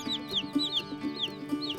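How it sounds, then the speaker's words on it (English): Silkie chickens cluck in short, repeated calls at a fairly regular rhythm, close and moderately loud, with no one talking. "Now, silkies are the strangest looking birds I have ever seen."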